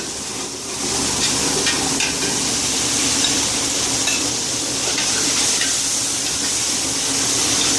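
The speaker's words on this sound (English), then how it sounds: "So once the tomato is added, saute it for some more time" Tomato sautés in a pan for biryani, with a steady loud sizzle and hiss from the hot oil and occasional scraping as it is stirred.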